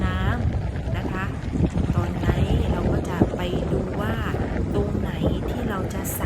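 A boat cruises steadily along a river past moored boats, villages and riverside rafts, with a constant engine and water wash plus wind buffeting, and someone talking over it.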